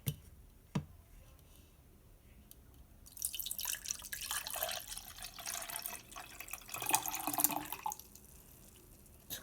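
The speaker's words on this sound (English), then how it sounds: "First we're going to add the lemonade." Lemonade pours into a cup for a blizzard-style dessert, a close liquid splash that begins after a faint drip and runs for several seconds before tapering off.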